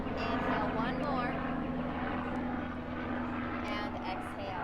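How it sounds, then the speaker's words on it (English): A helicopter passes overhead during an outdoor yoga session, its steady engine and rotor drone present throughout beneath a woman's calm spoken instructions. "perfect time for a helicopter to fly by"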